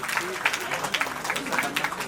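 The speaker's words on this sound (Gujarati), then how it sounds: "જોરદાર તાળીઓથી સ્વાગત." An audience at a Ram Katha gathering breaks into applause, a brief burst of irregular claps with crowd murmur and voices mixed beneath it.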